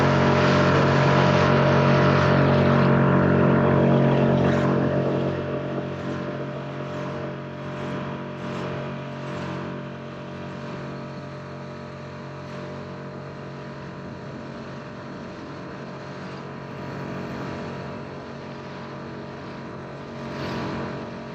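A boat engine drones steadily during a launch through low surf at La Jolla, loudest at the start and then settling into a continuous, slightly quieter rumble with no voices.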